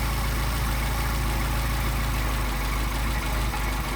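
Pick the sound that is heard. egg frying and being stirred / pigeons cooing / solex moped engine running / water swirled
solex moped engine running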